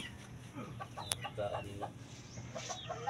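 A rooster of a native breed clucks in a series of short calls, close and moderately loud, over steady outdoor background noise.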